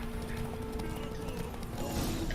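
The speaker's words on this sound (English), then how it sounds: "Horse just randomly took a turn to the right." Horse hooves clip-clop in a steady rhythm under continuous game music and ambience in The Witcher 3, with a faint whinny near the end.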